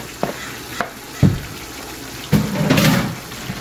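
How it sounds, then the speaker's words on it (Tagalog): Onions fry in a pan as pork steak is cooked, with brief sizzles and clatters that swell into a louder crackling burst near the end, each separated by quiet gaps. "pirito natin yung onion para ibalasa"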